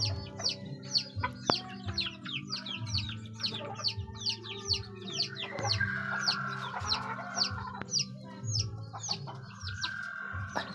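Several chickens cluck steadily in short repeated calls, with a longer crow-like call partway through, moderately close with a faint low hum beneath.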